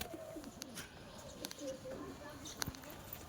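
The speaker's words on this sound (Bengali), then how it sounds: "এটা নতুন পায়রা" A pigeon coos nearby in a few soft, low, throaty calls, with faint scattered background noises around them.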